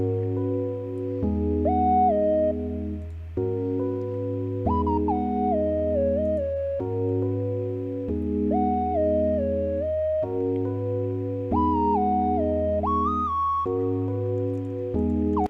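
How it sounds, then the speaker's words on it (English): A soft, pure sine-wave synth lead plays a slow counter melody with gliding notes over sustained keyboard chords, calm and spacey. "And then I added this kind of counter melody sine wave lead."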